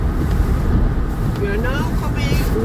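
A car drives along an ice road toward Moss in January, its steady low rumble and wind buffeting running loud and continuous, with faint tonal whines drifting over it and no talk.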